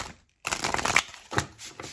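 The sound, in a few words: shuffling Grail Tarot cards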